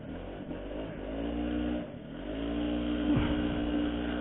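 A TVS XL moped engine running and revving: a steady mid-pitched motor drone that dips briefly, then rises again with throttle, heard close with no talking.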